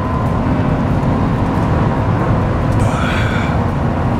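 A Toyota Camry engine hums with a rising whine while accelerating, heard steadily from inside the car as a low continuous drone with road noise and no talking.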